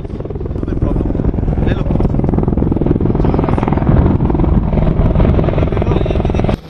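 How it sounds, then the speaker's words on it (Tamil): Apache and Chinook military helicopters during an Indian army exercise near the Ladakh border, a loud, steady rotor drone and engine roar that holds without a break from start to finish, cutting off abruptly at the end. "நவீன சினுக் வகை கனரக ஹெலிகாப்டர்கள் 24 மணி நேரமும் தயார் நிலையில் வைக்கப்பட்டுள்ளது."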